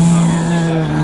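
A voice imitates a tank engine with a steady, droning hum held close and loud through the whole second.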